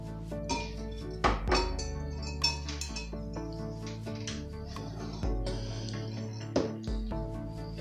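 Brown sugar batter is stirred in a bowl, with utensils clinking and knocking against the bowl in irregular taps and thunks over a low, resonant background hum. No one talks.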